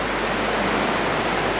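The Colorado River rushing past below Cathedral Wash in Marble Canyon, a steady broad roar of moving water heard up close without any break, with no talking.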